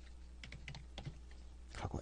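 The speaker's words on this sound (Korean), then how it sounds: "하고 엔터를 치면 레이어 이름이 변경이 됩니다" Computer keyboard typing ending with a press of the Enter key while renaming a layer in Photoshop CS2: a few scattered, light key clicks, close and quiet over a low steady hum, with a slightly louder cluster of clicks at the end.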